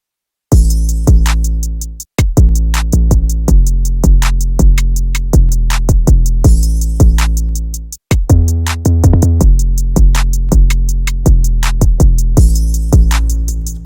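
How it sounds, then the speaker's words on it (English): Full hip-hop drum pattern built on deep booming 808 kicks, with crisp snare or clap hits and fast hi-hats in a steady bouncy loop, loud and close with no voices, briefly dropping out near two and eight seconds. "So all together then the drums sound like this."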